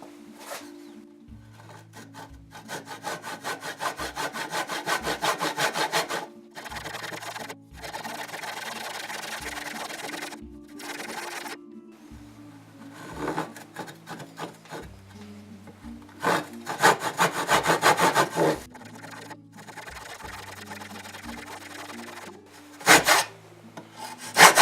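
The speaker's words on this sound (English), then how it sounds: "Looks like I'm going to have to do this portion with a handsaw." Handsaw cutting a wooden piece for a seed packet tray: steady back-and-forth rasping strokes come in several loud bursts separated by short pauses, close up with no talking.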